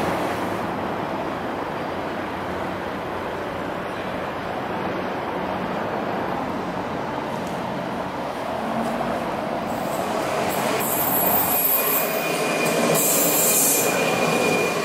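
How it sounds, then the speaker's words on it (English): A metro train running through a Prague metro station that also serves as a nuclear fallout shelter gives a loud, steady rumble with squealing wheels, and the pitch shifts near the end as it moves on. No voices are heard. "This is a metro station, but it also doubles up as a nuclear fallout shelter."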